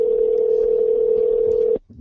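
A telephone ringback tone plays over a phone line during a call to a tire and lube shop. A single steady, loud electronic tone lasts nearly two seconds and then cuts off into quiet line noise.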